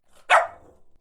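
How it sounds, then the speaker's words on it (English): A single short, sharp dog yap, loud and close, with a faint trailing growl-like tail afterward. "and barked in short yaps."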